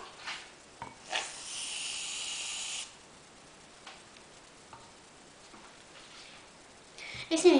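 A spray can of shaving foam hisses out in one steady burst lasting a few seconds onto slime glue, faint and close, with soft handling knocks before and after.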